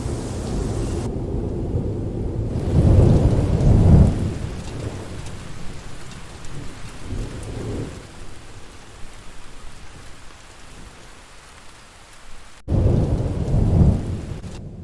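Steady heavy rain with several deep rumbling thunder rolls given a long reverb tail, the rumbles swelling and fading over the continuous downpour hiss, with no voices.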